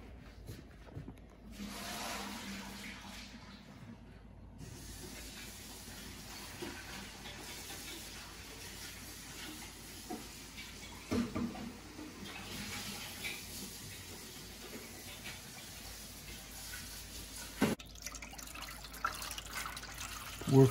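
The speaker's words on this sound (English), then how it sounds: "So first I'm going to dump this water." Water from an indoor hydroponic garden container is poured out, splashing and trickling steadily for a while, with faint background noise and a few louder knocks near the end.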